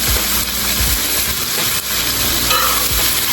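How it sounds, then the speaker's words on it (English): Butter sizzles loudly in a hot pan on high heat as gravy gets started, a steady, dense frying hiss with a few soft low knocks underneath, close and continuous. "We're gonna add a little bit of butter."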